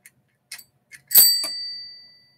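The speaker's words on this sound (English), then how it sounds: "Hit that notification bell," Bicycle-style bell used as a notification chime: one bright metallic ring that lingers and fades for about a second. A few soft clicks come before it, and there is no speech.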